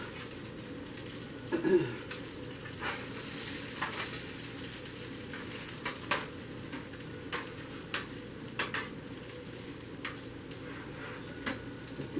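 Potato cakes fry in a pan over low heat with a steady, even sizzle, near and constant, and a few small pops and taps scattered through.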